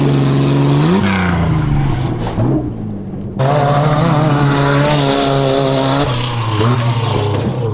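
A prerunner truck jumps and runs whoops in Johnson Valley desert terrain. Its engine roars loud and close, rising and falling with throttle, briefly dropping off mid-jump before surging back at full revs.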